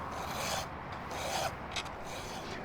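A file is drawn across the chain of a Husqvarna 350 chainsaw, giving a steady close rasping scrape with a few brief stronger strokes, quiet and without talking.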